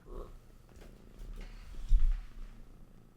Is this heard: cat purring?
yes